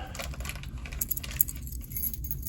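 A bunch of lock control keys for SFIC cores jangles and clinks in rapid, irregular bursts, close and moderately loud, with no talking.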